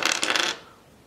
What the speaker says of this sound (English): I can roll 4 dice.